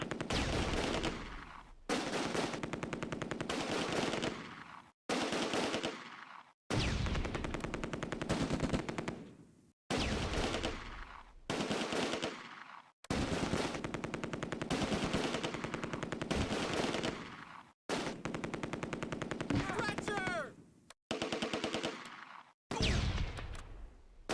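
Sustained machine gun fire from a Close Combat: A Bridge Too Far battle at Groesbeek Heights during Operation Market Garden, loud close bursts cut by brief pauses across the whole stretch.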